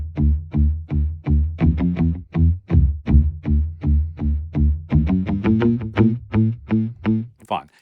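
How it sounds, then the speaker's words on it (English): Muted electric bass notes from a Westwood Novella Carbon synth plug-in, plucked in an even quarter-note rhythm, short thumpy distorted tones repeating steadily and alone. "this electric bass, I have it set to quarter note rhythms and muted at that"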